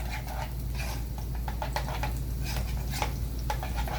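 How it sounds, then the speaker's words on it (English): A spoon stirs butter into grits in a pot, giving soft scraping and clinking taps in an irregular rhythm over a low steady hum, close and fairly quiet. "give it a nice little stir"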